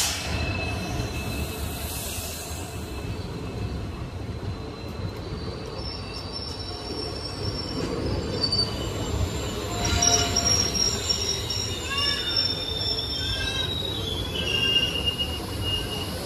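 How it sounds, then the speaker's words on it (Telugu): The Nilambur Road Express arrives at Angadipuram railway station in Kerala, with rolling wheels and carriages, high metallic wheel squeals rising and falling, and a faint horn, a long steady passage with no talking. "మన పోయే ట్రైన్ ఏమో నీలాంబర్ రోడ్ ఎక్స్ప్రెస్"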